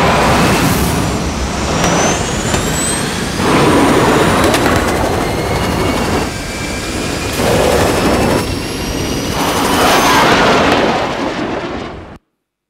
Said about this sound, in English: Case, blow the cabin oxygen through the main thrusters